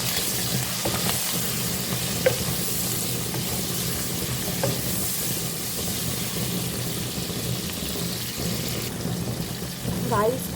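Prawn karahi with tomatoes being stirred in a pan, a steady sizzle with scraping strokes of a spoon running through, close and continuous, with faint background talk.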